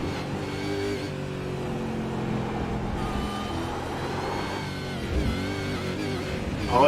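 A racing car engine in the iRacing video game, a Supercars series race, stutters and coughs as it runs out of fuel, its loud revving drone faltering and dropping out unevenly before picking up again near the end.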